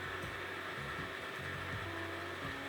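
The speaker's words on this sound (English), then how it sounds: "I'm going to turn the vacuum on." CNC router vacuum table pump switched on, a steady whooshing motor roar with a faint hum that stays constant and close throughout.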